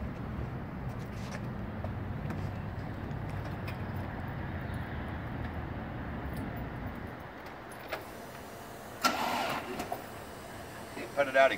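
A modified 1985 Dodge Omni GLH engine runs at a steady idle, a low, dense rumble that fills the first seven seconds before dropping away, followed by a few clicks and knocks and people talking.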